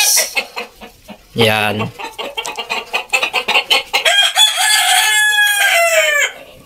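Fighting roosters of Mistiso gamefowl lines crowing and clucking up close: short clucks, a loud crow, then a longer crow trailing off, with a brief spoken word in between.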